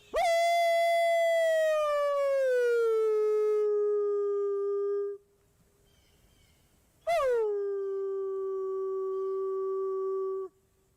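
A voice howls on request, imitating a dog or wolf: two long, loud sustained howls, the first about five seconds and falling in pitch, then a pause and a second shorter howl.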